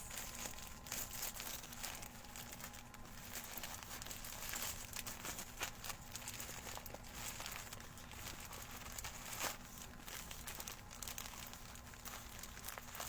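A package being torn open to unwrap a gift t-shirt, with continuous faint crinkling and rustling of plastic wrap, scattered soft tearing sounds and small handling noises throughout.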